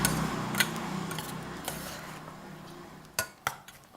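Thai beef salad (nam tok neua) with lime juice and fish sauce is tossed by hand in a bowl. Soft wet scraping and stirring runs throughout, broken by a few sharp clinks of utensil against the bowl.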